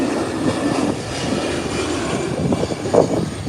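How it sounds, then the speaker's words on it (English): An American Airlines airliner rolls down the runway on its takeoff run at Howard Hamilton International Airport, a steady broad engine roar at moderate distance that swells slightly near the end. "Here's American Airlines heading down the runway."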